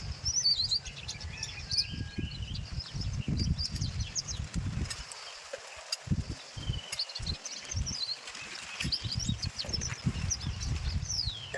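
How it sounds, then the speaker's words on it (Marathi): Sparrows chirp in quick, scattered bursts while strong gusts of wind buffet and roar low and loud, rising and dropping throughout. "प्रचंड वारा, चिमण्यांचा आवाज."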